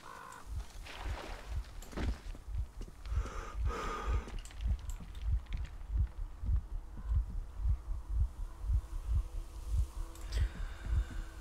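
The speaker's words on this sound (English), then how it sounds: "Why can I hear my heart beating" A loud, steady heartbeat pounds in the Metro Exodus video game, its low thumps repeating in an even rhythm all the way through over a faint ambient hum, with no talk.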